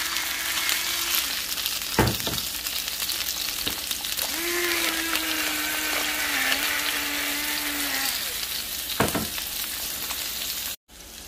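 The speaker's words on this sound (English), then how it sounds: "We are going to pan roast these potatoes." Potatoes pan roasting in oil in a cast-iron skillet with salt, pepper and rosemary, a steady loud sizzle throughout, broken by a few sharp clacks and scraping stirs, with a faint tone humming in the background.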